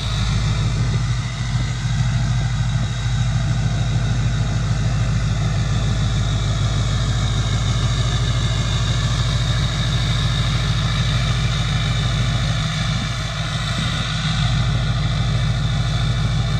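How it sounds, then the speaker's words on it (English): An LBZ Duramax diesel pickup truck engine sits at high idle after a cold start, giving a steady, loud, unbroken low rumble with a constant mechanical drone throughout and no voices. "This thing's in high idle right now"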